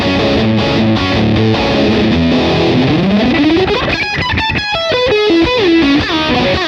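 An electric guitar runs through a Laney Monolith distortion pedal with the tone backed down and the gain maxed, loud saturated chords, then a rising run and a quick descending lead line, with no talking.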